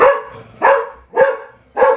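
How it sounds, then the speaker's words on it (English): A dog barks four times in a steady rhythm, close and loud, each bark clear and sharp with no talking over it. "even the dog agrees"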